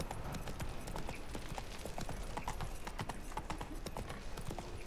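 Horse hooves clip-clop in a steady, fast rhythm as a horse is ridden through a town in the video game The Witcher 3: Wild Hunt; dense, close hoofbeats run the whole time with no talk over them.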